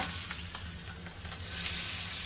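Spice tempering poured into a pot of rajma, bursting into a steady sizzle and crackle with faint spoon stirring, fairly quiet and without talk.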